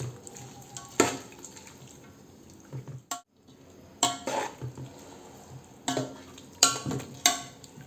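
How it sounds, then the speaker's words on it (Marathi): Chicken biryani ingredients being stirred together in a pot, producing a series of scraping, clattering strokes at irregular intervals with a brief pause midway, close and moderately loud with no voices. "आता हे व्यवस्थित मिक्स करायचे."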